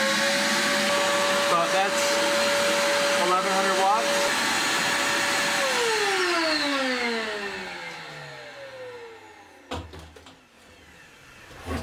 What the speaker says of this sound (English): It's pretty amazing that it's able to handle this vacuum fine too.